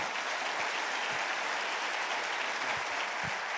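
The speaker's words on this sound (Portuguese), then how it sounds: "Uma salva de palmas a Deus pela vida do Júnior" Church congregation applauding for pastor Júnior, a continuous, even stretch of many people clapping at moderate level, heard alone with no speech.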